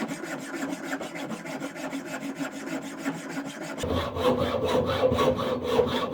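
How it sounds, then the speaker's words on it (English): A hacksaw cuts steel rebar for raised garden beds with steady back-and-forth rasping strokes, close and continuous, growing louder and coarser partway through. "A hacksaw is a very good tool"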